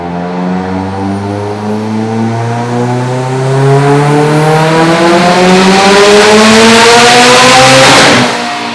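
A turbocharged Mitsubishi Evo X with a twin-scroll 6466 turbo kit on a stock block revs on a dyno at English Racing, its loud engine note climbing steadily in pitch for several seconds before cutting off abruptly.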